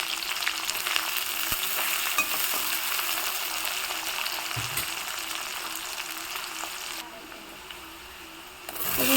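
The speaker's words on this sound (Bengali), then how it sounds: "কালো জিরে ফোড়নে দিয়ে দিলাম, দিয়ে দিব পেঁয়াজ কুচি, লঙ্কা কুচি। ভালো করে লাল করে ভেজে নিয়ে" Chopped onion and chilli fry in hot oil with nigella seeds, giving a steady, dense sizzle with faint stirring clicks throughout. The sizzle drops briefly near the end before swelling again, and no one speaks.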